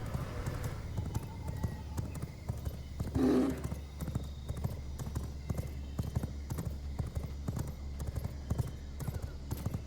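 Horse hooves clip-clop steadily in V Rising, close and fairly loud, with a brief whinny early on and background game ambience throughout.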